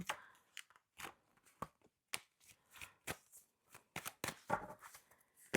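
Tarot cards being shuffled and snapped in quick irregular bursts, close and crisp, with short pauses between riffles; no voices.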